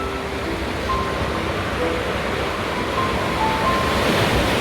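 Sea waves at a beach resort in Kannur produce a continuous, fairly loud surf roar with some wind noise, steady from start to finish and with no talking.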